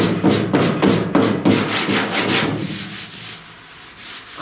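Rhythmic back-and-forth sanding strokes scrape across body filler on a 1969 Chevrolet C10 rear panel, close and fairly loud, slowing into lighter, softer rubbing toward the end.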